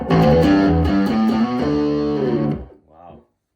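A tube amp with a Tube Screamer pedal pushes electric guitar chords into heavy overdrive, loud and saturated for a couple of seconds, then cut off, followed by a brief softer note.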